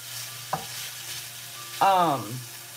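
Bacon frying in its grease with vegetables in a pan, a steady low sizzle broken by a sharp clack and a brief squeaky scrape as the food is stirred.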